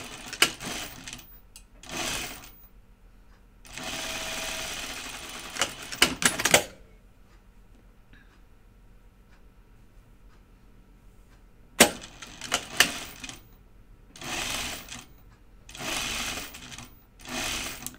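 A sewing machine stitches lightweight fabric in short, rapid mechanical bursts separated by quiet pauses, close and fairly loud, with no talking.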